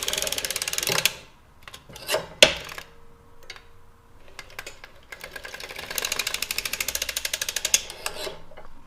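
An Erlbacher sock knitting machine cranked by hand during heel shaping, a dense clattering, ratcheting run of needle clicks in bursts, with a sharp knock and a quieter pause between passes.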